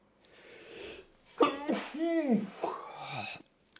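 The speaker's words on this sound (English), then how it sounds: "Oh, I'm going to sneeze again." A single close sneeze from a person, with a sharp breathy burst and a voiced, drawn-out tail, preceded by a soft inhale.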